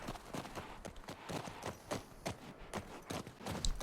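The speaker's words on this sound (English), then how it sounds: "We're riding horses." Horse hooves clip-clop in an even walking rhythm during riding in The Last of Us Part II video game, fairly faint with a steady beat over low background noise.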